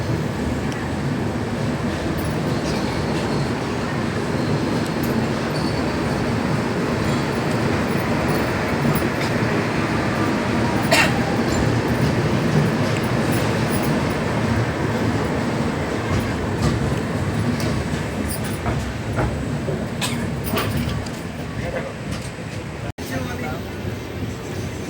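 Passenger train running on rails, a steady continuous rumble and clatter of wheels heard from inside for the whole stretch, with occasional sharp rattles and squeaks.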